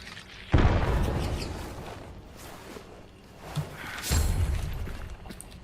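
Two heavy grenade blasts in the video game Hunt: Showdown, each a sudden loud boom with a long rumbling tail, spaced a few seconds apart over low background noise and no talking.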